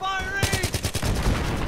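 Full-auto rifle fire in the shooter game Battlefield 3, a rapid burst of about ten evenly spaced shots, loud and close, starting just after a brief tonal sound and trailing into a noisy rumble.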